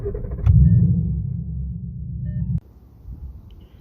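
Inside a Ford Mustang with a dead battery being moved, a low car rumble swells and holds close by, then cuts off abruptly, leaving a quieter background.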